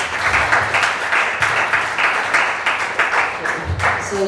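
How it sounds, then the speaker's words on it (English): Audience applause fills a room at an education seminar about studying in the United States, a dense, steady wash of many hands clapping at close range, sustained without talk. "Please give a round of applause for these ladies for coming."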